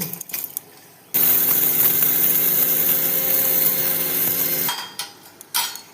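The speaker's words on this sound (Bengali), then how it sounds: "এগুলো এখন আমি মিক্সচার মেশিনে ফেটিয়ে নেব।" A mixer grinder whirs through fried, cooled spices for a bitter gourd pickle, starting abruptly in one loud, steady roar of about three and a half seconds before cutting off into quiet kitchen sounds.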